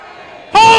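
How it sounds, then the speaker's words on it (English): A wrestling arena crowd at an NWA Smoky Mountain event erupts suddenly into loud, sustained chanting and roaring, following a quieter murmuring stretch; the crowd counts along in unison. "I have never seen a crowd count to 30"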